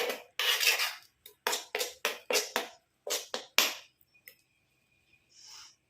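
A spoon clinks and scrapes around a bowl while a homemade hair remedy with rice starch water is mixed, giving a rapid series of close metallic taps and strokes that stop near the end.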